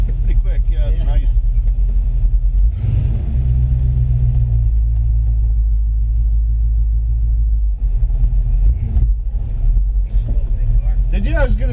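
A 1957 Chevy Bel Air's engine gives a deep, steady low rumble close by, with people talking briefly over it.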